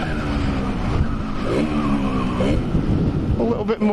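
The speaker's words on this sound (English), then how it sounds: "you definitely can tell when you're riding this two-stroke, she's very raw with the power" A two-stroke motorbike engine runs raw and buzzy while being ridden, revving and shifting pitch steadily throughout, with a voice speaking over the engine noise.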